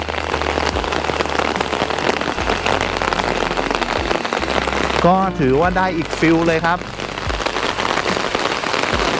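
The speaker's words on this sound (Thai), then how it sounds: "แล้วฝนตกค่อนข้างแรงด้วย" Heavy rain pours steadily onto surfaces in a loud, dense hiss, with a person briefly speaking over it partway through.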